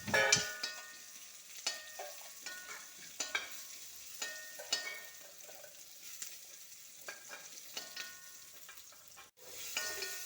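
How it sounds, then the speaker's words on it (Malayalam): Crushed spices and green chilli sizzle gently in hot oil for a tuna curry, with a spoon scraping and stirring the pan at a steady, repeated pace; the sound is quiet and close, with no voices. "പച്ചവളം കൂടെ ഇട്ട് ഇളക്കി കൊടുക്കാം"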